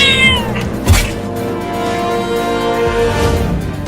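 A cartoon cat in a Hindi comedy cartoon about an ice-cream seller gives a clear, wavering meow right at the start, then a steady busy background carries on without speech.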